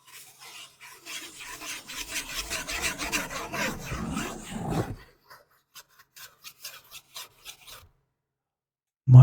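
Close, loud scratching and rubbing on a surface as an ASMR trigger, dense and rasping for about five seconds, then a run of short, separate scratches, brief silence and a sharp bump at the end.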